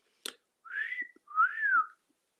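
A person whistles two short sliding notes, the first rising and the second arching up and down, faint and close with quiet gaps and no talk.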